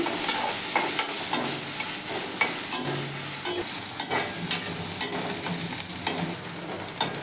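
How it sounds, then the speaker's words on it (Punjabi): Onions fry in oil in a pan for a dry bitter gourd and potato dish, a steady close sizzle broken by repeated scraping knocks of a spoon stirring them, no voices. "ਇਹਨੂੰ ਆਪਾਂ ਹੁਣ ਪਿਆਜ਼ਾਂ ਨੂੰ ਕਰਾਂਗੇ ਜੀ ਫਰਾਈ"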